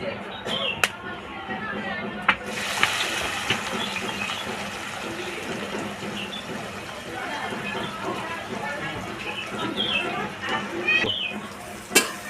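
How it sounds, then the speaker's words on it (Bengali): Onion frying in hot oil with dried red chilli, whole cumin and bay leaf, a steady close sizzle with a few sharp clicks and clatters, while people talk over it. "শুকনো লঙ্কা গোটা জিরে তেজপাতা ফোড়নে দিয়ে দিলাম এবার দিয়ে দিলাম পেঁয়াজ"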